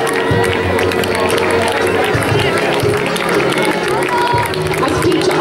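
Live crowd at a Bradley Stoke event cheering and clapping, a dense, loud mix of applause and shouts close by, sustained throughout with a busy babble of voices.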